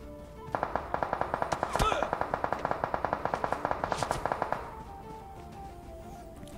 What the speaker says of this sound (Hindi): अब तभी देखो मेरे पास कितनी गंदी फायर होती है।